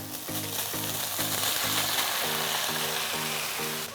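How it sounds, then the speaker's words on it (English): Cooked jeera rice with finely chopped green chilli sizzles steadily in a hot pan, a loud continuous frying hiss throughout, with a faint tonal hum running underneath. "Add the cooked rice to the pan."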